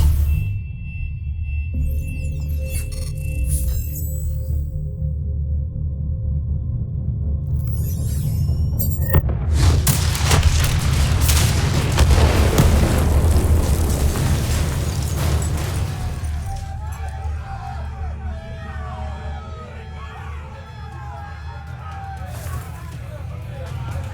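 Detonation in the Call of Duty: Black Ops III campaign on PC, a heavy booming blast swelling into a long rumbling roar that fades into debris and game ambience, with game voices speaking briefly around it.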